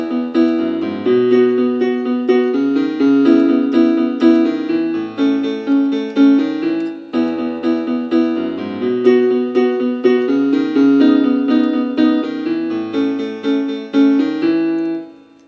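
Easy piano arrangement of a song played at full tempo, a steady stream of chords and melody notes ringing out close and clear for about fifteen seconds, with no talking.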